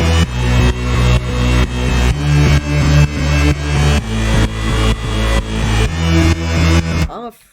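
A loud progressive house drop pumps with a thumping four-on-the-floor kick and bright layered synth leads, the whole mix surging in sidechained swells beat after beat before cutting off abruptly.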